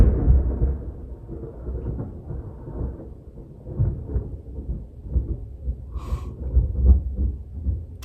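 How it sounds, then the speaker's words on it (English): Deep, rolling thunder rumbles low and heavy in waves, swelling and easing over several seconds, with a brief faint tone partway through and no speech. "Damn, that's loud thunder"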